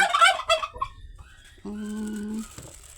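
A turkey gobbles in a quick rattling burst on a farm in Thailand, followed by a steady, nasal, held call from nearby fowl.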